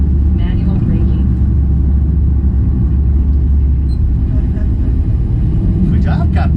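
A small airplane rolling down the runway under manual braking just after landing in Toronto, a loud, steady low engine and tyre rumble throughout, with people talking over it in the cabin.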